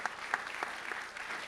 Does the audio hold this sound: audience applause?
yes